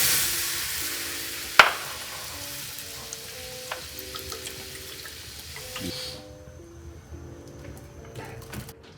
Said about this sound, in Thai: นำนม ใส่ไปในกระทะเพื่ออุ่นนะครับ